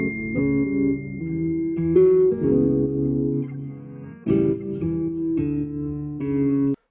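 Layered R&B guitar melody sample built in a beat-making session, a clean melodic line doubled with echo and a reversed copy of the melody, playing continuously and fairly loud with swelling, smeared reversed notes and no talking.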